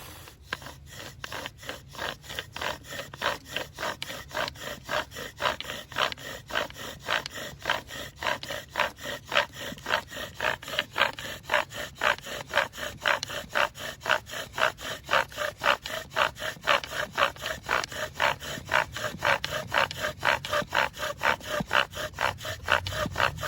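A bow drill spins a wooden spindle for friction fire making in a steady, fast back-and-forth rhythm of rasping wood-on-wood strokes, close and continuous throughout, with no talking.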